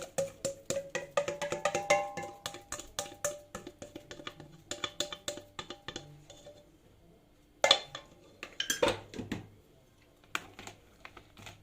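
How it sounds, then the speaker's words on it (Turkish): Utensils clink and tap against a bowl in quick repeated strokes as sliced zucchini is tossed with sauce, close and light, with a brief pause midway. "Sos kabakların her tarafına geçecek şekilde karıştırıyoruz"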